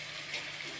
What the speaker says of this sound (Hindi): मैंने 1 गिलास इसके अंदर पानी डाल दिया।